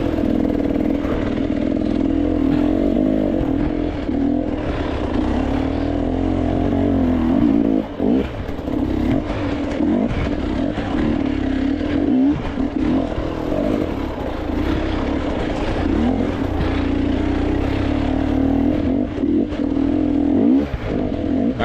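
An enduro motorcycle climbs through narrow gulches on a hard enduro course, its engine droning loud and close throughout with brief throttle dips and surges.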